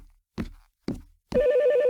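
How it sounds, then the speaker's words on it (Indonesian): Telephone ringing in a hospital at night: two short thumping knocks, then a loud steady electronic ring tone begins and holds, with no talking. "Ada telepon teman-teman, ada telepon."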